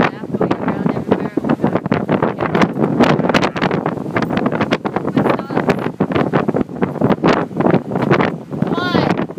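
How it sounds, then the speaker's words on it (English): A violent windstorm roars against the microphone in loud, continuous gusts, with dust and debris being blown around everywhere. "it's wind and dust and crap going around everywhere"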